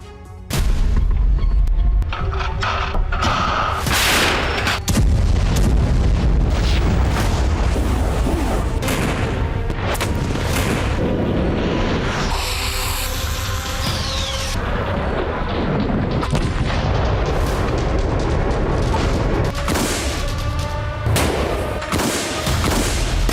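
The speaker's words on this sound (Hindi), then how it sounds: "कहीं आसमान से बरसा रूस का बम, कहीं टैंक के गोलों से मच गई तबाही।" War footage filled with heavy bomb and tank shell explosions, dense booming blasts and rumbling impacts overlapping almost continuously at high loudness.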